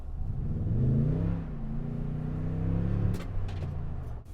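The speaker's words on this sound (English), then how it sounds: "it actually has a rather sonorous exhaust note" A 2019 Toyota Tundra TRD Pro's exhaust revs up, a deep droning engine note rising and holding before easing off, heard steadily from inside the cabin.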